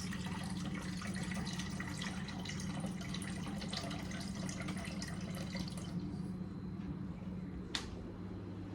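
Water running from a tap into a container, a steady rushing flow for about six seconds that then quiets, with a single sharp click near the end.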